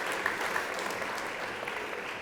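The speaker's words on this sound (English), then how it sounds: "Let's give Elwin a big round of applause for standing up here." Audience at a talk gives a round of applause, a steady dense patter of many hands clapping throughout, fairly close and even.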